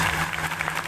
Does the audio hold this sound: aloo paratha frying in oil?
no